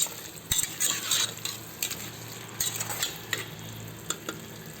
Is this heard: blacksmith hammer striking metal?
no